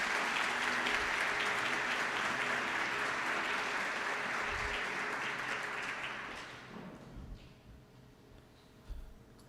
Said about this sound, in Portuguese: Vamos dar um aplauso para esses dois irmãos aqui nessa noite.